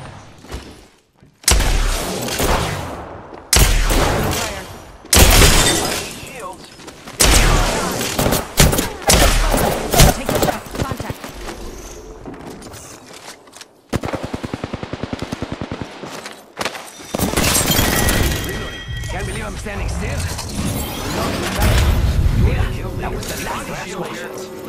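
Enemy gunfire in the battle royale game Apex Legends crackles in repeated loud bursts and volleys, with automatic fire and short gaps between exchanges.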